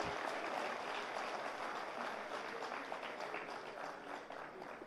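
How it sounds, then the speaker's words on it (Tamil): Audience at a Tamil public speech applauds steadily, a dense, even wash of clapping that carries on for about five seconds with no talk over it. "அது சரின்னு நினச்சா ஒரு நல்ல கைத்தட்டு கொடுங்க அவருக்கு."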